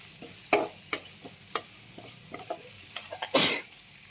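Onions and green chillies frying in oil in a home kitchen, with a steady low sizzle broken by several sharp scraping clicks of a spoon stirring the pan and one louder burst near the end.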